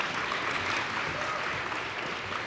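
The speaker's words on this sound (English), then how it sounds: "If you guys would hold your applause until each child's name is called" A crowd applauds at an elementary school DARE graduation ceremony, steady full clapping from many hands with no voices over it.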